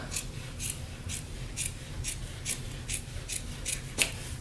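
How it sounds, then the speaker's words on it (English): Scissors snip through fabric or paper in a regular rhythm of about ten quick, close cuts, shaping curved armhole sections for a child's pumpkin costume, with no talking. "we're just going to cut out some little armhole sections"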